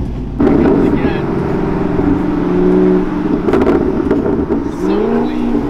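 Stock Chevrolet Camaro with a muffler delete revving loudly nearby, deep raspy blips rising and falling with popping in between, with a person talking over it.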